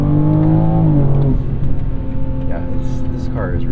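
2023 BMW M3 Competition xDrive Edition 50 Jahre on snow tires, pulling hard up an on-ramp, its engine note climbing steeply then shifting and droning on with road roar; a voice talks briefly over it.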